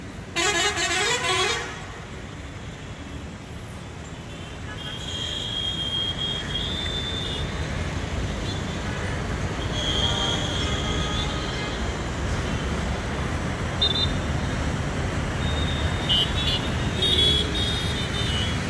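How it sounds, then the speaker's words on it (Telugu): A traffic jam on the main road at Elephant Circle in Mallapur: a steady roar of idling buses and cars, with car horns honking, a loud blast at the start and more horns later. "చూడండి మొత్తమే ట్రాఫిక్ జామ్."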